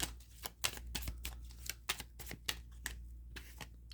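Tarot cards being shuffled by hand, a rapid run of crisp papery riffles and taps that come in uneven bursts, close up over a low steady hum with no talking.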